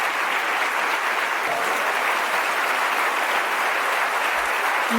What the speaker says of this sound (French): nous voulons la recevoir avec beaucoup d'applaudissements et avec tout notre cœur